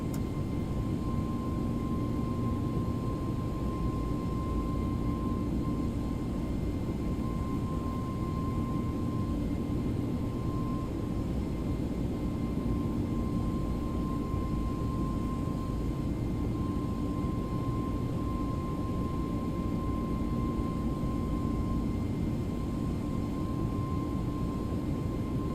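Steady, continuous roar of ToLiss A321 NEO jet engines at climb thrust in X-Plane 11, a broadband rush with a constant whining tone held unchanged throughout.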